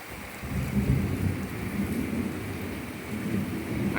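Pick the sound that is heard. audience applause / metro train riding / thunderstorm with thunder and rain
thunderstorm with thunder and rain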